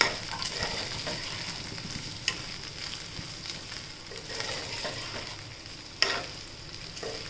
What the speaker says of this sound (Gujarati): તો બધી જ મકાઈ નાખીને પછી એને છે ને સારી રીતે આપણે હલાવી નાખશું